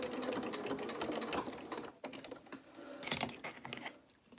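A domestic sewing machine stitching fabric for a small rabbit doll's dungarees, a steady close whirring run that breaks off briefly near the middle, then resumes in short bursts.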